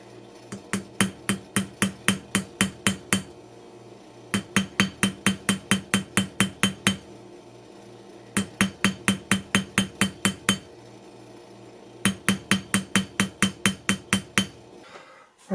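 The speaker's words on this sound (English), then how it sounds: "I'm going to start tapping here, and this is going to take hours" Hammer tapping the edge of a silver coin to shape it into a ring: loud, evenly spaced metallic ringing strikes in four fast bursts of about ten to twelve taps each, separated by short pauses, with no talk.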